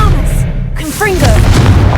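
A Confringo explosive spell blast from the video game Hogwarts Legacy bursts out as a loud boom amid continuous game effects and swooshing magical sounds, with a voice casting spells around it.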